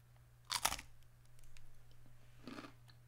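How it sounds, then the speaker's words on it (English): Two sharp, close crunches from someone biting into a potato chip, the first loud and brief, the second softer a couple of seconds later, over a quiet background. "That sounds like a deep and resonant crunch."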